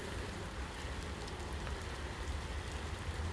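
Steady rain falling outdoors in the morning, a dense, even hiss of drops landing on surfaces, continuous and fairly close with no voices over it.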